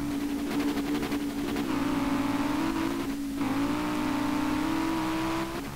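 Car engine in the Street Legal Racing Redline racing game with a new gearing setup, revving hard and steadily climbing in pitch, with a short dip at a gear change before it pulls up again, loud and continuous.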